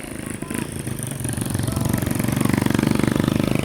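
A motorcycle engine runs steadily and close on the Talandang to Malabog road in Davao City, its loud droning rumble swelling slightly partway through, with voices faint beneath it.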